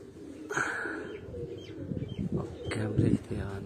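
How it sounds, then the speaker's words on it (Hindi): A pigeon coos low and throatily at a rooftop, mixed with chirps and some rustling, while a person talks nearby. "कबूतर आया जी"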